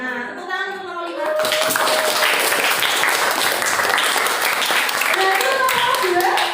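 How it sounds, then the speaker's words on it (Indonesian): Classroom applause for a student group after a math graph presentation, a burst of many hands clapping for several seconds, with a teacher speaking before and after. "Tepuk tangan untuk kelompok 5."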